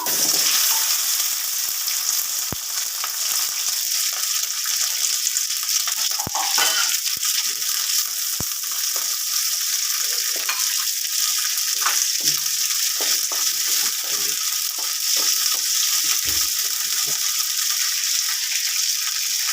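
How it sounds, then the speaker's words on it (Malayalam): Okra frying in hot coconut oil, a loud, dense and steady hiss of sizzling close by, with occasional faint stirring clicks underneath and no pause throughout. "എണ്ണ ചൂടായിട്ടുണ്ട് നമ്മുടെ വെണ്ടക്കായ ഇട്ട് കൊടുക്കാം"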